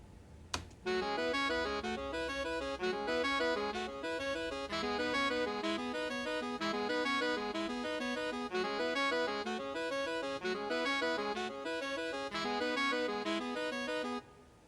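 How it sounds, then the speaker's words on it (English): Saxophones play a rhythmic melody of short, repeated notes in a steady pulse, with no voices. "I had the saxophones play it."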